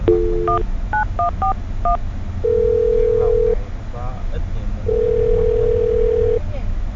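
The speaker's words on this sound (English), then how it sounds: "I'm going to dial her phone number right now" Touch-tone telephone keypad beeps dial a phone number in a quick, uneven run of tones, followed by long steady tones while the call connects, with faint background talk.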